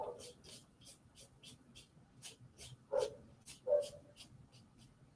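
A dog barks repeatedly at a distance, faint and irregular yaps, with a few louder barks standing out amid soft background noise.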